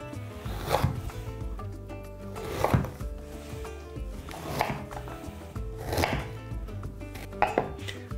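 Quince is cut into fairly large cubes with a knife on a cutting board in a home kitchen, several sharp chopping bursts spaced about a second or two apart, close and clear over a soft background.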